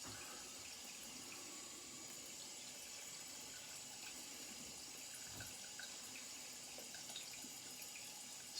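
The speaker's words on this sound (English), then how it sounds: "So, loads of water again." A tap runs steadily during a wet shave, a faint, even hiss of flowing water that barely changes throughout.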